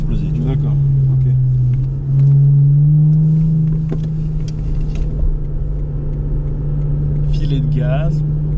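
Lexus IS250 engine holding a steady low drone that climbs briefly in pitch as the throttle is eased, heard from inside the car with people talking over it throughout.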